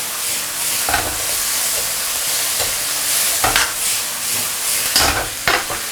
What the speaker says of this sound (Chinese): 大火给它炒一下